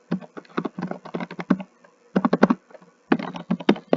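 Rapid bursts of typing on a computer keyboard, crisp close key clicks in three clusters separated by short pauses.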